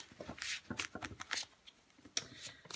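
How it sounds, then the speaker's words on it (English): Playing cards are shuffled up close in several quick riffling bursts, crisp flutters separated by brief pauses, fairly quiet with no voices. "I'll give them another big shuffle just to be on the safe side."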